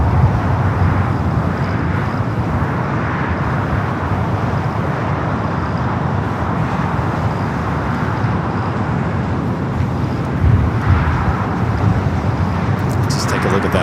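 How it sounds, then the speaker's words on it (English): A distant Austrian Airlines airliner taxis along a taxiway at LAX toward the south-side runway, giving a steady broadband jet engine roar that holds evenly throughout, with faint airport ambience in the background. "Austrian continued its taxi down Bravo, heading to 25 right"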